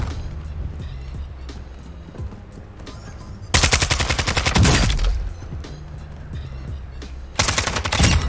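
Loud bursts of automatic gunfire in the video game Warzone, with sustained volleys at the start and end and quieter ambient firing and movement in between.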